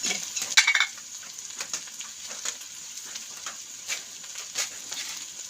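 Okra, onion and green chilli stir-fry as mezhukkupuratti in a pan, making a bright, steady sizzle. A spoon scrapes and clinks against the pan now and then, and there is no speech.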